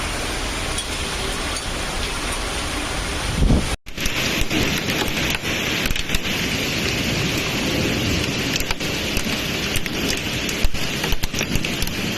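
Hailstorm with heavy rain in La Rioja, Spain: a loud, unbroken roar of pounding precipitation with scattered sharp impacts, briefly cut by a sudden dropout before the downpour resumes just as dense.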